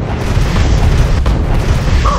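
A rocket detonates in the video game GTA 5, giving a dense, rumbling boom that fills the whole short stretch.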